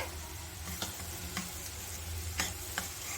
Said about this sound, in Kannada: ರವೆನ ಚೆನ್ನಾಗಿ ತುಪ್ಪದಲ್ಲಿ ಹುರ್ಕೋಬೇಕಾಗತ್ತೆ.